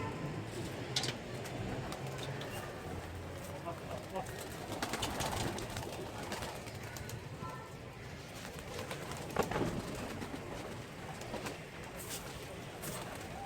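Pigeons coo softly in the distance over a dense, noisy outdoor background with scattered rustling and clicks.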